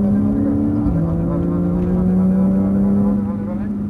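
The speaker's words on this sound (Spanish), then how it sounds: "dale gas de cono a cono" An exotic car's engine accelerating on a coned driving course in Cancún, a loud steady drone whose pitch dips briefly and then holds, with an instructor talking over it.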